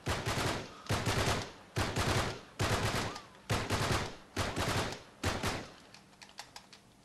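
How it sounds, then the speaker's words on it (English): Gmal burst rifle firing in Uncharted 3, a string of about eight rapid three-round bursts in a steady rhythm, loud and close, with the bursts thinning into scattered softer shots at the end. "I'll show you with the Gmal burst."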